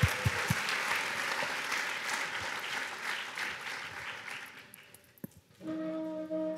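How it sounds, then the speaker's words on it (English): Audience at a startup talk applauds a speaker onto the stage, a broad, steady wash of clapping that fades after several seconds as a musical tone comes in at the end. "let's give a big round of applause for Eren Bali to come on stage."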